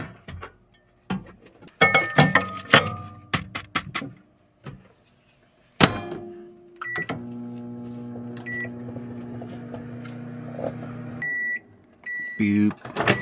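A microwave oven hums steadily for several seconds after button beeps and clinks, with a person talking at the start and a final beep as it stops.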